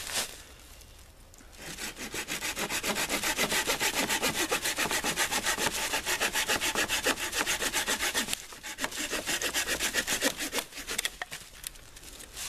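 A Bahco hand saw cuts through resinous fatwood in steady, loud, close back-and-forth rasping strokes, pausing briefly midway before the rhythmic sawing resumes.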